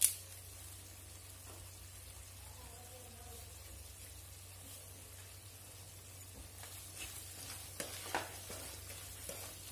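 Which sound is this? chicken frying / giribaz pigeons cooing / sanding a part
chicken frying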